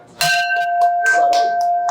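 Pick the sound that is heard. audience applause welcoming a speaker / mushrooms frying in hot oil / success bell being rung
success bell being rung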